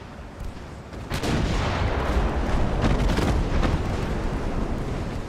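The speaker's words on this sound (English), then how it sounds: "all those casemates going off at the same time sounds beautiful" Battleship casemate guns firing together in the naval game Ultimate Admiral: Dreadnoughts, a dense, loud rumble of overlapping booms that swells after a second and holds as a heavy roar.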